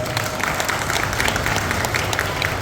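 Steady, lively crowd applause welcoming a newly sworn-in community committee at a Seervi Samaj oath ceremony in Sakinaka, Ghatkopar, with dense clapping throughout and no pauses.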